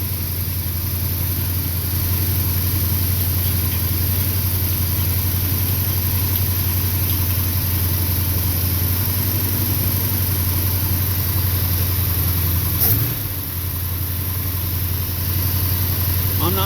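Dodge M880 engine idling shortly after a cold start, a steady low rumble with an even hum, close and continuous, while someone speaks over it.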